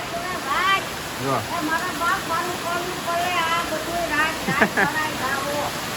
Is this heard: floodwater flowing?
yes